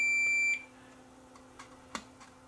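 A multimeter continuity beep during a Realistic Minimus 0.5 speaker teardown: one steady electronic tone held for about half a second, then faint handling clicks.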